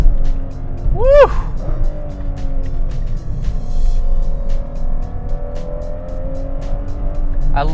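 A 2019 Ferrari 812 Superfast's exhaust drones loud and steady from inside the car while it is driven, rising and easing slightly, with a brief whooping voice near the start.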